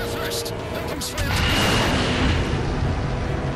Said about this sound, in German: Anscheinend ist eine riesen Atombombe